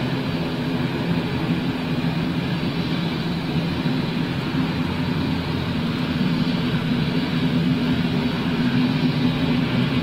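Propeller aircraft engines running in sync, a steady deep drone with an even throbbing hum, continuous and fairly loud throughout without talk.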